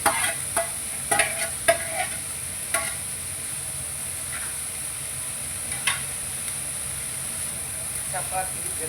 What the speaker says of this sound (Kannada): ಈರುಳ್ಳಿ ಬೇಯಿಸಿ